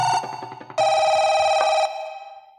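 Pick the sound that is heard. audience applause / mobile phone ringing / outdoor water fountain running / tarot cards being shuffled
mobile phone ringing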